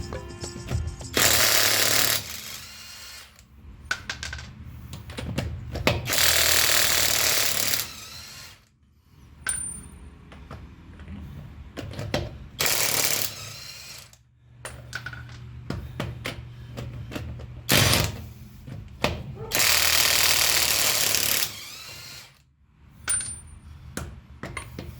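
A cordless impact wrench spins lug nuts off a wheel in repeated loud bursts of rapid hammering, separated by short pauses, close up and with no talking.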